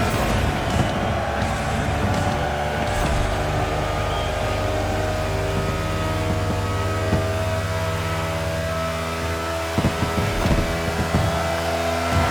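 Racing car engine in The Crew Motorfest roars steadily through an overtake, a continuous loud drone with shifting pitch and brief rises near the end, no talk over it.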